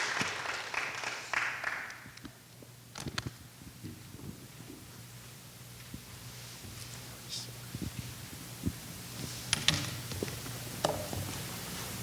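A congregation at Austin Woori Baptist Church claps to welcome the preacher, a brief soft burst in the opening seconds that fades into quiet room rustle with occasional voices.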